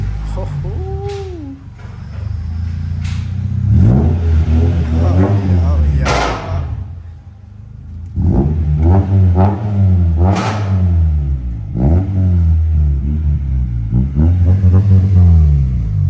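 An Acura Integra with a Skunk2 exhaust revs repeatedly, deep throaty blips that rise and fall in several loud bursts nearby, with a man's brief exclamation at the start.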